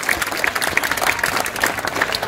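Brisk, dense applause from an audience at a live Schlager concert, close and loud, with a faint crowd murmur mixed in and no speech over it.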